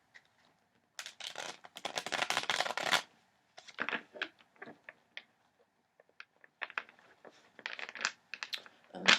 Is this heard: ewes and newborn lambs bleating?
no